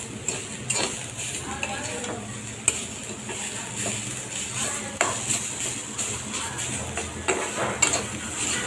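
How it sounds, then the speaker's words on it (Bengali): Bitter gourd fry stirred in a pan with a utensil, steady scraping and clinking over a soft continuous sizzle, close and moderately loud with a few sharper knocks. "করলা ভাজিটা। একটু লেড়ে দিব।"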